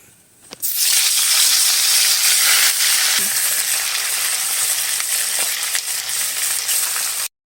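Fish heads dropped into hot oil in a wok for a cabbage curry, giving a sudden loud, steady sizzle that holds close and strong for several seconds, then cuts off.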